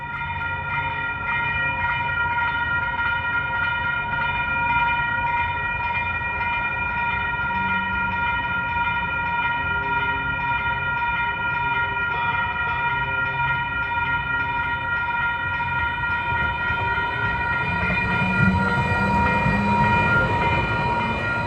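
A train passes through a quiet-zone railroad crossing with the gates down, heard as a continuous rumble of rolling rail cars under steady ringing crossing bells, loud and close throughout, swelling slightly near the end.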